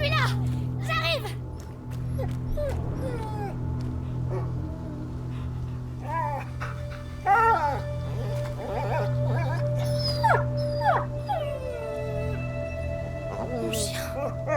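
A dog in the video game A Plague Tale: Innocence yelps, whimpers and howls in scattered bursts over a low steady hum, while a voice calls out nearby.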